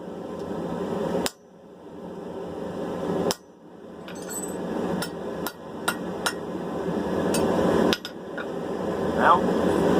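Hammer blows on a chisel cutting a V into steel for bolt jaw blacksmith tongs, sounding as sharp, loud, ringing metallic strikes at irregular intervals, about seven or eight in all, over steady background noise.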